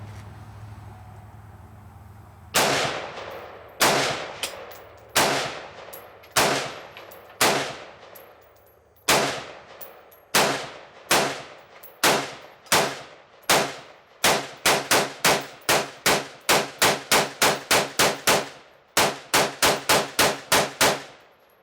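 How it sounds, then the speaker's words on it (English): A Colt firearm fired downrange at an outdoor shooting range: loud, sharp reports with ringing tails, spaced single shots at first, then quickening into a rapid, fairly even string near the end. "So we're gonna shoot it downrange, and now that it's lubed properly and clean, and see how this Colt runs."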